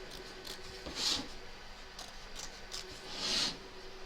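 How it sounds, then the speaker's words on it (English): Two distinct snips of scissors trimming excess fabric around the stitch line of an in-the-hoop embroidered notebook cover, close and crisp with quiet pauses between them. "Trim away the excess fabric from around the edge of the stitch line"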